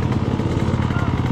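KTM two-stroke motocross bike revs hard at a dirt track, a raspy buzzing engine drone that is loud and continuous through the short moment.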